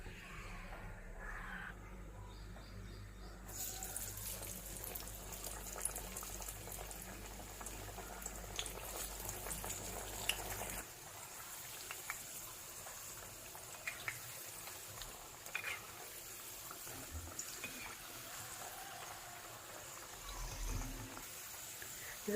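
Paruppu vadai, flattened patties of lentil batter, sizzling and bubbling in hot frying oil, a steady low crackle that runs on and quiets somewhat partway through, with no one talking over it.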